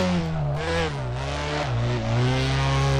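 Mazda MX-5 engine drifting in the video game Drift 21, a loud continuous rasping note that rises and falls as the revs swing, with no pauses.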